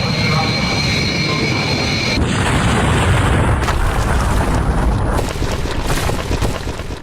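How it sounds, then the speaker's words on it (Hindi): An animated airplane takes off and crashes into a building, with a continuous loud engine roar that swells into a heavy rumbling boom and churning noise. "विमान जैसे ही टेक ऑफ करता है रनवे से आगे बढ़ते ही फौरन देखिए क्रैश हुआ, इमारत से टकराया"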